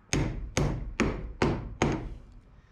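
Five sharp, evenly spaced hammer blows drive a nail into a part on an old mini U-Haul box truck that sat for 35 years, each strike loud and close with a short ringing decay.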